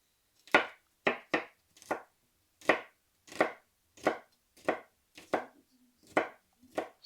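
A kitchen knife chops four garlic cloves small on a cutting board, about a dozen crisp, evenly spaced close knocks in an unhurried rhythm with brief pauses between them.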